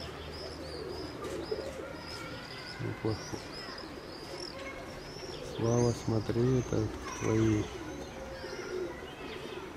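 Young pigeons coo in a loft in a few short, throaty bursts near the middle, over a steady background of other birds chirping while someone talks nearby.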